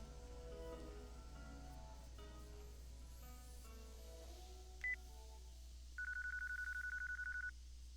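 Phone being dialed in the video game Yakuza 4, with a brief beep followed by a steady run of repeated electronic ringing tones over a low background hum and game music.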